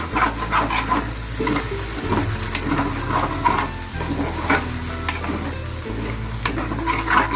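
Potatoes and sugar are stirred in a pan for sabudana khichdi, with a steady close sizzle and repeated scraping strokes of the spoon throughout, no talking.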